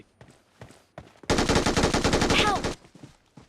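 In a video game, a loud, close burst of rapid automatic gunfire lasts about a second and a half. Quieter scattered game sounds come before and after it.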